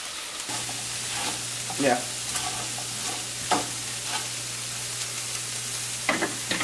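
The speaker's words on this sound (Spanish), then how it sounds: "Es una ligera pasadita por el aceite." Chile and other ingredients fry lightly in hot oil in a home kitchen, giving a steady soft sizzle with occasional stirring scrapes. A brief voice is heard once.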